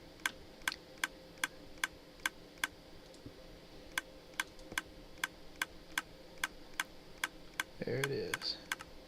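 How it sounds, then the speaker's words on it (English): A water stream in the game Overgrowth makes a steady, evenly spaced run of sharp, faint clicks, about two per second, with a brief voice near the end. "You can hear all that clicking."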